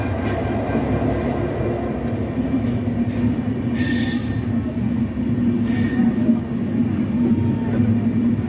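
The Drutojan Express passenger train from Dhaka toward Panchagarh rolls past loudly and up close, a steady roar of carriages with squealing wheels and faint rhythmic rail clatter.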